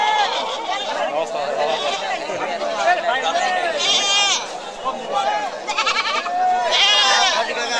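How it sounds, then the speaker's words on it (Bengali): Many local-breed goats bleat repeatedly at a busy open-air goat market beside a railway, overlapping calls near and far over a murmur of crowd chatter and voices. "সম্পূর্ণ দেশি জাতের ছাগল, অসংখ্য ছাগল উঠছে দেখেন"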